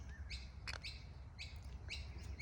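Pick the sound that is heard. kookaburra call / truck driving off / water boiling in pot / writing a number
kookaburra call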